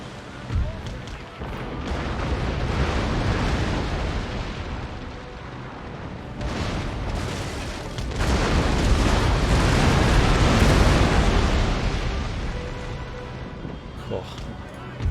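Naval cannon fire from an Empire: Total War sea battle, a long run of overlapping heavy booms and rumbling blasts, loud and continuous with brief lulls, someone talking over it.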